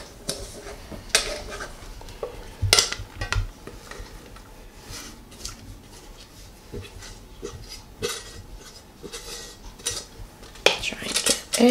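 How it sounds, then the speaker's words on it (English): A spoon scrapes and clinks against a bowl while cheddar and sour cream sauce is stirred into cauliflower for a keto casserole, irregular close knocks and scrapes with soft handling noise between. "I'm going to take our sour cream sauce and put it in, because we're going to stir everything together."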